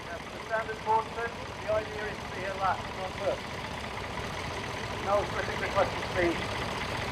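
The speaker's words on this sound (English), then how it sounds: "Great excitement, the tractor race has begun." Vintage tractors at a country show race in their lowest gear, heavy engines chugging in a low steady rumble with a crowd's voices heard intermittently over the noise.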